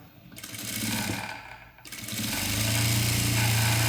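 A sewing machine stitches a folded saree edge, a steady close mechanical whirring and rattling that dips briefly, then runs continuous and louder with no talk over it.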